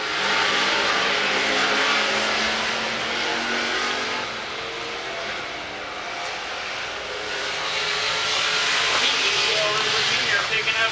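Race cars speeding around the I-44 Speedway oval, a loud sustained engine roar swelling and fading as the pack passes, with an announcer talking over it.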